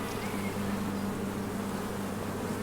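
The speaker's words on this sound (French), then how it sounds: "Je vais regarder si les abeilles, elles ont commencé à rentrer dedans pour faire stocker du miel." Honeybees hum at an open beehive, a continuous close, even buzz with a steady low tone and no voices.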